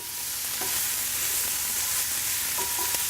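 Onion and garlic sizzle steadily in a hot pan while being stirred, a loud continuous frying hiss with a few light clinks of the utensil.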